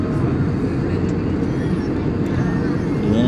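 Aircraft engine droning steadily from inside a passenger plane on a flight over Goa, a loud, constant low roar with no breaks throughout.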